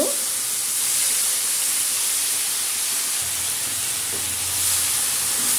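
Malabar spinach stems and potatoes fry with spices in a pan, a loud, steady broadband sizzle and hiss that continues unbroken, with a low hum entering partway through.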